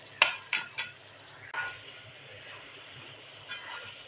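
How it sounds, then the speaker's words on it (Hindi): Garlic frying in a karahi for chicken karahi: three sharp stirring clinks, then a steady soft sizzle with occasional light scrapes, fairly quiet and close. "और लहसुन को मैं थोड़ी देर फ्राई करता हूँ एक साथ"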